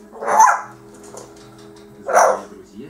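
Two loud, close barks come about two seconds apart, each a short harsh burst over a quiet indoor background.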